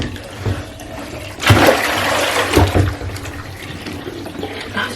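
Water runs from a tap into a baby bath and spills over, a steady hiss and splash that swells loudly partway through and then settles to a softer flow, with no talking.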